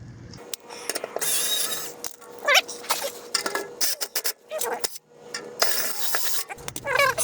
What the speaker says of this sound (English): I'm gonna remove this bolt right here.